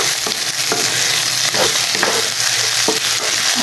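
Tomatoes and shrimp paste (alamang) sauté in a pan with a loud, close, constant sizzle, punctuated by several sharp stirring scrapes of a utensil against the pan.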